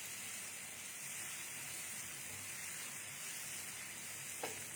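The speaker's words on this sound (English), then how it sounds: "So we'll saute this also." Baby corn sautéing in a pan gives a steady, even sizzle of frying that holds at one level throughout, with no voices.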